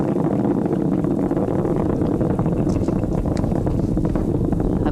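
Falcon Heavy's 27 Merlin engines roar in flight through max Q: a steady, dense, unbroken rumble with a windy, buffeting texture, loud and constant throughout with no pauses.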